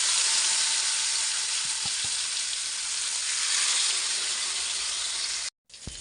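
Tilapia coated in tandoori masala frying in mustard oil in a pan: a loud, steady, crackling sizzle, heard close with a few small pops, that cuts out briefly near the end.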